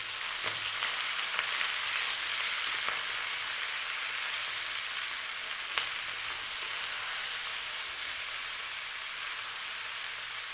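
Big chunks of lamb fry with onions in a pan for a coconut curry, a constant close sizzle and hiss with a few faint stirring clicks, steady throughout and free of voices.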